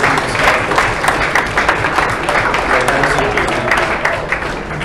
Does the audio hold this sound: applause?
yes